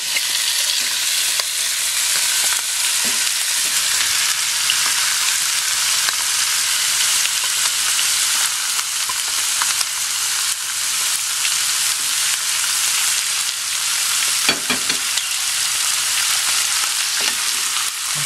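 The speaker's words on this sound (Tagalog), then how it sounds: "medyo piprituhin lang natin ng konti. Dapat kasi medyo ma-light fry natin ito." Chicken and pork pieces sizzle steadily in a pan, lightly frying as the first step of an adobo, with a loud, continuous crackle and occasional stirring sounds throughout.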